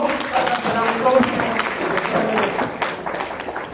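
Audience applause at a DXN business seminar in Bangladesh, a dense wash of clapping from a crowd that stays steady throughout, with voices mixed in.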